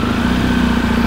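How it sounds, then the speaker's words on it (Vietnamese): A Honda Air Blade motorcycle engine runs at a steady, close idle, a loud continuous hum with no talking over it. "Thử nổ máy cái nha."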